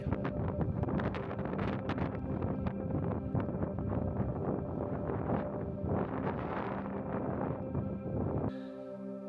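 Wind of a snowstorm at a mountain hut, a loud and continuous roaring gust that buffets the microphone with no voices, then drops away abruptly near the end.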